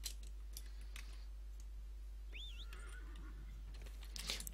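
Horse whinny in the video game Dragon Age: Inquisition, a single rising and falling neigh heard alone at moderate level over quiet game ambience, with faint clicking before and after.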